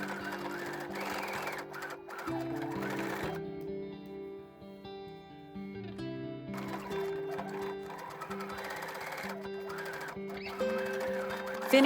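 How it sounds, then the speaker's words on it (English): Sewing machine stitching the seams of bias tape on a lace neckline, running steadily through the whole stretch with short pauses and speed changes, close and alone with no talk. "pin again, and sew the seams"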